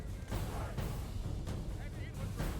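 Cannons fire on a Medieval 2 Total War battlefield, several deep, rumbling booms rolling out in quick succession over a constant low battle din, with voices mixed in.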